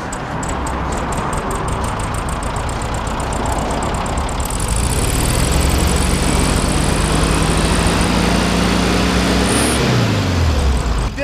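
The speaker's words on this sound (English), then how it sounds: "I believe it sounds like a bad rod bearing" Worn car engine with a suspected bad rod bearing runs steadily and loud throughout, a continuous rumbling drone with shifting low tones near the end and no speech.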